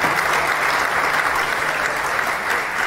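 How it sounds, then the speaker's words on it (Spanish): A crowd claps steadily and loudly at an economics talk, dense applause filling the room without pause. "El aplauso para recibirlo a Martín Tetaz."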